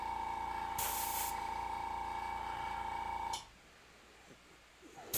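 An airbrush spraying paint on a skull design hisses in a steady spray with a high whine, then cuts off, leaving near silence and a faint click at the end.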